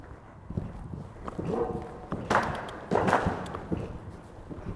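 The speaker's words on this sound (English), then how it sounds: "So you can almost hear the horse grunting slightly." A horse jumping during an equestrian masterclass, with heavy hoof thuds and landings plus a faint effortful grunt, close and uneven, with no talk over it.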